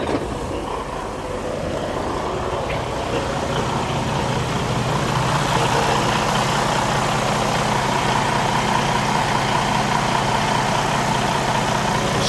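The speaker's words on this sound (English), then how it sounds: "I'm gonna sit right here and let it idle for at least 30 minutes" A Western Express semi truck engine idles steadily and loudly, a continuous low rumble with a constant hum that holds unchanged throughout, with no talking.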